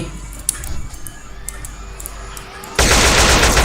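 Burst of gunfire in the video game GTA, with faint scattered shots early on before a loud, dense volley of rapid fire erupts and continues to the end, sounding close and harsh.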